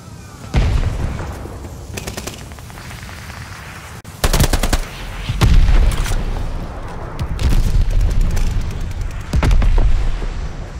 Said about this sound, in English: Friendly mortar fire coming.